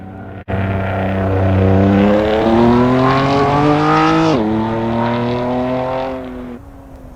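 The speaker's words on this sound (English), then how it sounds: "Akrapovic exhaust gives it a really nice sound" A BMW M4 with an Akrapovic exhaust in the racing game Assetto Corsa revs hard through gears, a loud raspy engine note climbing in pitch, a sharp shift near the middle, then easing off with a crackle toward the end.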